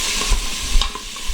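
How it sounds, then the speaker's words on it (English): Chopped Dahlia sweet onion sizzles on the sauté setting of an Instant Pot, a close, soft crackle with a few quick stirring scrapes. "That's going to saute for a couple of minutes."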